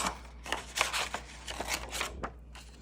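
Scissors cut a strip from a book page for a junk journal, giving a series of quiet, close, crisp paper snips and rustles in an irregular rhythm, with no voices.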